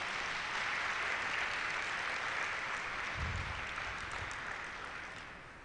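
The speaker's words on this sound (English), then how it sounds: "A round of applause again." An audience at an inaugural lecture in a hall applauds in a steady, dense wash of clapping that holds for several seconds and then slowly tapers.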